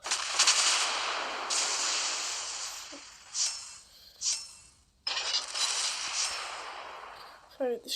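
Warship guns fire repeatedly in a World of Warships naval battle, with booming salvos under a voice giving orders.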